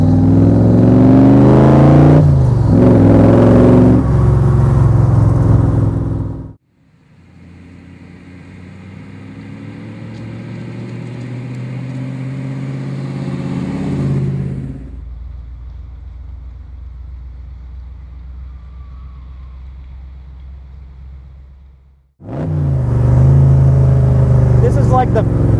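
A 1965 Shelby Cobra Roadster's engine roars loudly as it is driven, a deep sustained rumble rising under acceleration then settling, with people talking before and after.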